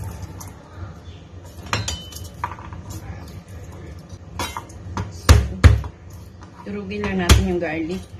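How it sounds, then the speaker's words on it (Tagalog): Garlic being pounded while preparing Moroccan chicken in a home kitchen: a few sharp, close knocks cluster near the end, separated by quieter clatter, with a person talking throughout. "Turugin lang natin yung garlic."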